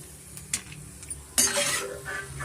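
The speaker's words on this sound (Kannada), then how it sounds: "ನಾವು ಮೀಡಿಯಮ್ ಫ್ಲೇಮ್ ಮಾಡಿಕೊಂಡು ಕಡಲೆಕಾಯಿ ಬೀಜನ ಒಂದು ಪ್ಲೇಟಿಗೆ ಸೇರಿಸ್ಕೊಂಬಿಡೋಣ." Roasted peanuts being tipped from a pan onto a plate during mango rice preparation, giving scraping, clinking metal-on-dish sounds with a louder rattling pour midway, close and without talk.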